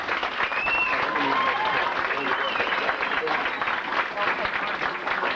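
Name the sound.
audience applause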